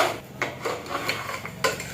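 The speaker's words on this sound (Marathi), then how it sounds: "आता ही सगळी मी तुपामध्ये टाकली आणि आता ही चांगली तुपामध्ये परतून घेते।" Broken wheat lapshi sautéed in ghee inside a pressure cooker, heard as a spoon clinking and scraping against the metal pot in a few quick, close strokes over a soft background.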